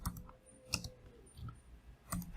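A computer keyboard is used to enter a command, giving a few sparse, separate key clicks spaced out over a couple of seconds. The clicks are close and fairly quiet, with no talking.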